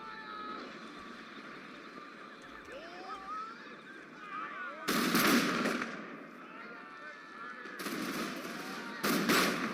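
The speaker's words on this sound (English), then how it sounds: "Let's start shooting here." Massed musket volleys from troops in Empire Total War crack out in bursts of rolling gunfire over a steady battlefield hum, with a spoken voice running through the clip.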